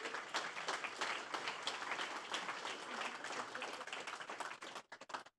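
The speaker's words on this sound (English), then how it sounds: "So a massive round of applause for all you lot" Sustained audience applause at the Investival 2019 conference talk on building Monzo's bank, a thick even clatter of many hands that thins into a few last scattered claps before stopping.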